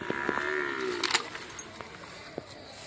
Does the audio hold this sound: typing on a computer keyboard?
no